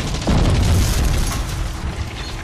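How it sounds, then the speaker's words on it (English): A bomb explodes in the Wings! Remastered video game, a deep, loud boom that swells suddenly and trails off into a rumbling roar, with no talking. "I do like that explosion sound"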